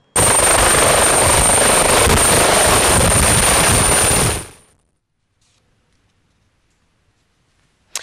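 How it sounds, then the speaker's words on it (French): A presidential helicopter roars loudly and steadily with dense rotor chop and a high whine, then fades away abruptly, leaving near silence before a brief final click. "le président Denis Sassou Nguesso a requis son hélicoptère pour regagner Brazzaville"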